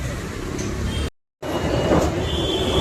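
A train at Ghatkopar railway station gives a steady, loud rail rumble and hiss that cuts out completely for a moment, then returns just as dense and continuous.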